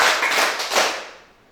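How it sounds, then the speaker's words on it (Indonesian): Three quick group claps from a class of students respond in unison to a teacher's cue, each burst smeared by room echo before trailing off. "tepuk 3"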